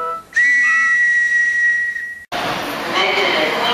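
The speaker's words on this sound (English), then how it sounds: "Now, where's my whistle?" A single long, loud whistle blast holds steady, then cuts abruptly into a burst of broadband noise from a G subway train.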